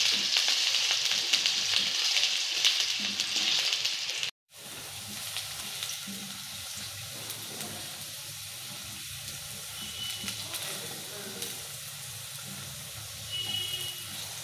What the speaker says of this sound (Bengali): আলুগুলোকে আমি এইভাবে কেটে নিয়েছি, এবার সেটাকে আমি তেলে ভেজে নেব।